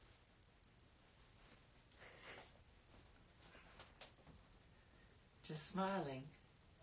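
A cricket indoors chirps in a fast, even pulse that repeats throughout, faint and steady, before a person's voice briefly speaks near the end.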